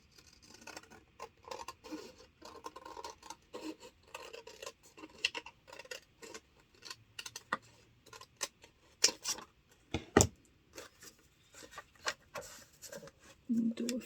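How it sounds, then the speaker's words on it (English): Scissors snip through a paper craft along a score line, making a quick patter of small cuts and rustles close by, with a few sharper snips mixed in and soft talk nearby. "So I'll cut it on the last score line."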